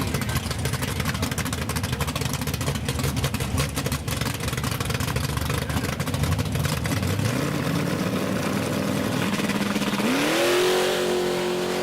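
Ford Mustangs, a blue one and a red 1969 one, drag racing at a big-block Ford event: a loud, continuous engine roar builds, then rising revving sweeps climb sharply near the end as a car accelerates away.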